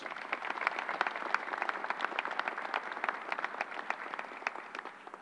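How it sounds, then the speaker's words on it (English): A round of applause at a gathering in a convention center, dense steady clapping from a sizable crowd that holds throughout and tapers slightly near the end, with no talk. "Let's give him a round of applause."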